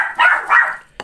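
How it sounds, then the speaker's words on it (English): A pet dog named Peaches gives two short barks indoors, close and fairly loud, followed by a brief sharp yip at the end. "that's why Peaches is barking"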